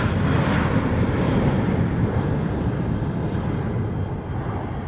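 Airplane passing at Amsterdam Schiphol Airport, a loud, broad engine roar that fills the clip and eases slightly toward the end as it moves away, with no talking.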